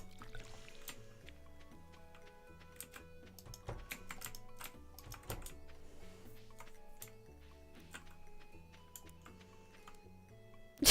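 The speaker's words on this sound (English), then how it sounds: "Angry typing commences." Angry typing on a computer keyboard, rapid irregular clacks and harder key strikes over quiet background music, ending with a louder thump.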